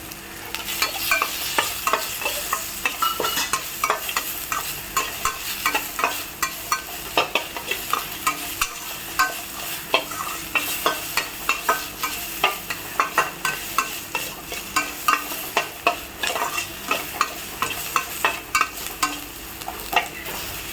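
Greens stir-fried with cumin in a pan make a continuous sizzle broken by rapid, regular scraping strokes of a spatula throughout, close and loud with no voices.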